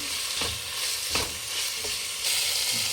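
Tomato and capsicum cook in a pan for egg rice under a loud, steady sizzle, with several distinct stirring scrapes spaced about a second apart, heard up close.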